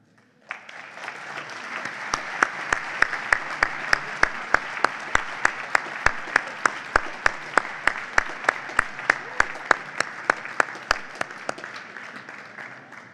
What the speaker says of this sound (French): S'il vous plaît, applaudissez-les plus fort